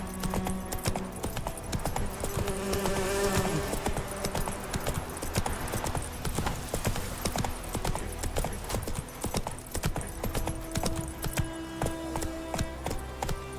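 Horse hooves gallop in a steady, fast clip-clop rhythm throughout a scene from The Witcher 3 video game, layered over continuous game music and ambience with no talking.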